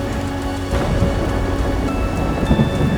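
Steady rain pours outdoors along a long straight-line walk, with a deep rumble of distant thunder rolling underneath, continuous and loud throughout.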